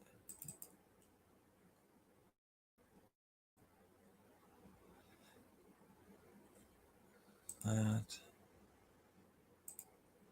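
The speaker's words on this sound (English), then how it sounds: "Lots of clicking sometimes to get it." Computer mouse clicks from someone at a PC hunting for a PowerPoint file, scattered faint clicks with one louder burst of rapid clicking near the end, amid low room noise.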